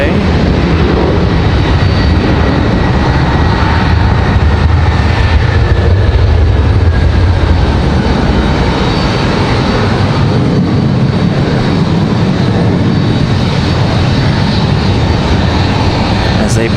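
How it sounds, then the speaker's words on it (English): An Air Canada Embraer E175 jet departs Raleigh-Durham International for Toronto on a windy day, a loud steady engine roar with a rising whine persisting throughout. "So Air Canada headed back to Toronto, I believe. E175."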